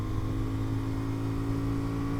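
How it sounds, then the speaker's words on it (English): A motorcycle engine, one of a Kawasaki KLE500, Royal Enfield Himalayan 450 or KTM 390 Adventure R, hums steadily and close at mid revs, a smooth continuous drone with no talk over it. "God, that engine just sounds so good"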